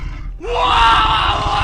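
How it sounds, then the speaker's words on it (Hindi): A man screams in a horror-story sound effect, bursting out suddenly after a brief silence. The cry climbs in pitch and is held loud and strained to the end. "वेटर बुरी तरह चीखा।"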